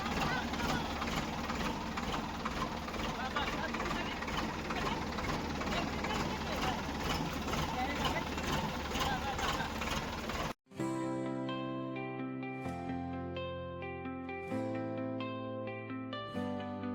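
A tractor engine runs steadily at a Gujarati farm during the wheat harvest, a loud continuous rumble for about ten seconds before it cuts abruptly to a different, quieter sound.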